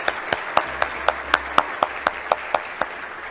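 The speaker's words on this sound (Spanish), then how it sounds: "realmente un aplauso enorme para los organizadores" One person claims audible, separate hand claps at a climate event in Tucumán. There are about thirteen sharp, evenly spaced claps at a steady rhythm, fairly close and moderately loud, with no other sound.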